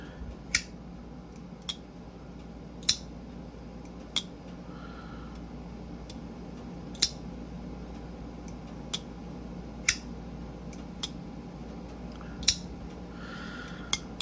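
Titanium integral folding knife, a Mr. Mr. Designs Ronin, opened and closed by hand, giving sharp isolated clicks and clacks spaced a second or two apart over a steady low background hum.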